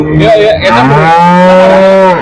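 A red-and-white Holstein Friesian cow moos at a cattle market in Karimangalam: one long, loud, close bellow that rises and sustains, with no talk over it.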